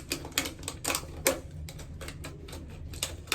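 Scissors snipping through a plastic bottle to cut off its top, a quick run of sharp crisp clicks and crackles, close and fairly quiet.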